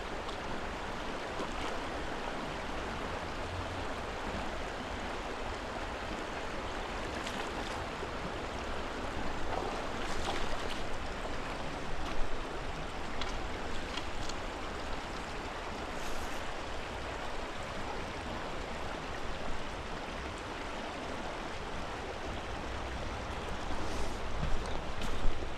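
Fast-flowing stream water rushing steadily and close for the whole stretch, a dense broadband wash with occasional splashy surges, no talk heard, during streamer fishing.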